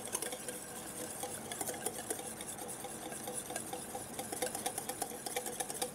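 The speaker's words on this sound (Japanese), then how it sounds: "油の量が少し多いんで分離しないようにゆっくり混ぜていくのがポイントです" Whisk scraping steadily around a bowl as salad oil is worked into mustard, red wine vinegar and salt for a thick tabbouleh dressing, a continuous close rapid clicking and swishing with no talk.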